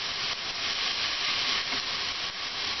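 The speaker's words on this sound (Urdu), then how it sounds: "صرف 20 سے 30 سیکنڈ کے لیے ہم سبزیوں کو بھی اچھے سے مکس کر کے اور اس کو فرائی کر لیں گے" Vegetables fry in a pan for moong sprouts masala, giving a steady, close hiss and sizzle that holds at an even level throughout without pause. No one speaks over it.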